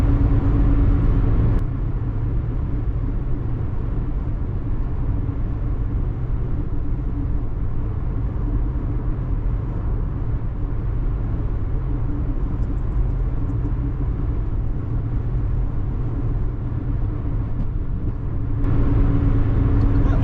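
Steady low road rumble and engine drone from inside a Toyota AE111 cruising at about 60 mph on the highway with a failed alternator, running on battery power; continuous and even, with no talking.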